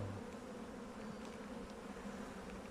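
Honeybees hum at an open hive being inspected during preparation for winter, a dense, steady low drone of many wings throughout the short moment, faint and close with no voices.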